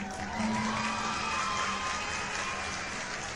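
Applause sound effect from a retro video game, a steady wash of clapping with a faint tonal hum, moderately loud and uninterrupted.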